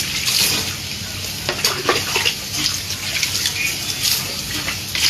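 Cold water splashes and runs steadily during a bath in a hotel bathroom, a broadband rushing wash with occasional brighter splashes, close and fairly loud throughout with no talking.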